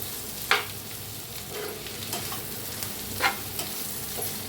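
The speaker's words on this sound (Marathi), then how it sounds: "आता ह्याच्यावर टाकूया कोथांबीर मिक्स करून घेऊया" Potato curry with ghee and coriander being stirred in a pan, with a soft, steady sizzle and a few faint scraping strokes of the spoon.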